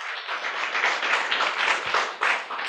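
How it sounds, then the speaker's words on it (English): Brief burst of audience applause at a motivational business talk, close and fairly loud, with uneven clapping rising and falling over a few seconds. "give them a round of applause"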